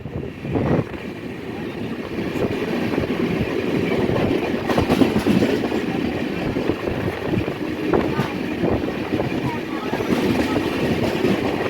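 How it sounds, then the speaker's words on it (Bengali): Passenger train running on the rails through Durgapur on a Kolkata to Mathura journey, a steady loud rumble and rattle of the carriages with a few brief knocks, continuous throughout. "তো এই মুহূর্তে আমাদের ট্রেন পার করছে দুর্গাপুর"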